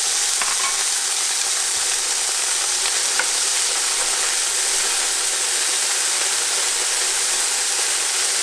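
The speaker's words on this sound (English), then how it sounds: "I'm going to fry these up until they start getting a little bit brown and toasted looking" About 12 ounces of chickpeas frying in shimmering olive oil, a dense, even sizzle and crackle that stays loud and close throughout, with faint stirring clicks and no talk.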